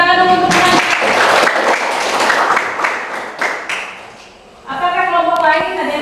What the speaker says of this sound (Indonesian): kasih tepuk tangan dulu untuk teman